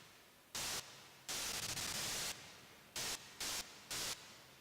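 Synthesized static noise plays in several bursts of differing length, a loud hiss that switches on and off with a faint reverberant tail lingering between bursts.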